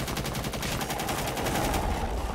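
Rapid gunfire in the tactical shooter Rainbow Six Siege, a dense continuous burst of automatic shots at steady high volume with no talking.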